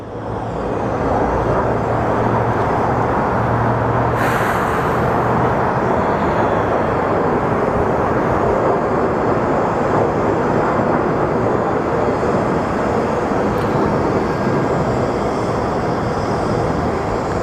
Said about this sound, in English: We do have our Sun Country Airlines pushing through.